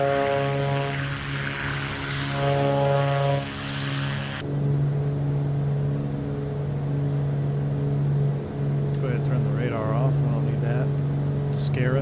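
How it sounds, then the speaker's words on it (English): The turbocharged twin engines of a Beech Duke drone steadily in flight inside a flight simulator game, a constant propeller hum with a second engine tone dropping away partway through, while a person talks over it. "Listen to those turbos."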